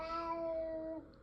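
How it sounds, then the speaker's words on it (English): A cat gives one clear, drawn-out meow nearby, a high tonal cry lasting about a second before it breaks off into quiet. "My cat."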